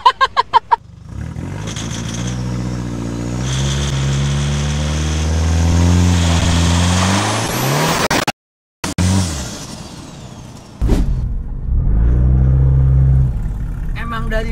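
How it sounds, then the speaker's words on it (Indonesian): A tuned Toyota Innova with a 2KD diesel engine pulls hard on a test drive, its loud rising engine note climbing through gears, cutting out briefly, then surging again, with voices audible around it. "Emang dari suara mesinnya sama feel-nya udah kayak bukan mesin standar Gap."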